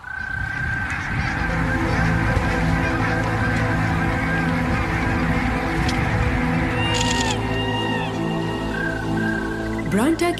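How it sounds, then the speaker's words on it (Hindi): Barnacle geese honking in a mountain setting: a loud, continuous chorus of overlapping honks from many birds, with a few sharper calls standing out near the end. "ब्रांटा के संगलाख पहाड़ों में बर्नाकल गूस नामी एक परिंदा आबाद है, जो देखने में तो बत्तख जैसा है"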